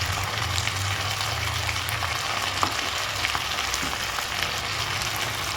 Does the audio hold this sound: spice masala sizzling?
yes